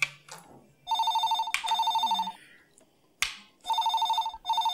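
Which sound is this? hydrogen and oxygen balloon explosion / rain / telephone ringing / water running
telephone ringing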